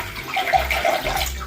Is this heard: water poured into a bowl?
yes